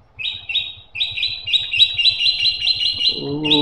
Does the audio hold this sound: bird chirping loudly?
yes